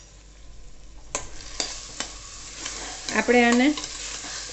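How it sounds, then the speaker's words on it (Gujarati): Rice being stirred and sautéed in ghee in a pan, a steady soft sizzle with several scraping strokes of the spoon; a person speaks briefly over the cooking. "આવી રીતના ચોખાને ઘીમાં થોડાક સોતે કરી લેવાના"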